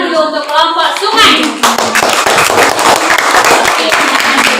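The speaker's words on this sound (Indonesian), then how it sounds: "Sekali lagi tepuk tangan dulu untuk kelompok sungai." A classroom of children bursts into enthusiastic clapping for a student group right after an adult voice speaks; the applause stays dense and lively to the end.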